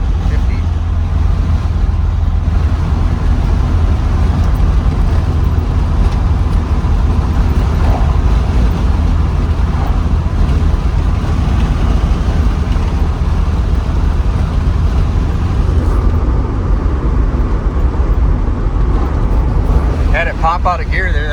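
A 1988 Alfa Romeo Spider Quadrifoglio on the road, its engine droning loudly and steadily at about 3,000 RPM at 50 mph under wind and road roar, with someone talking over it.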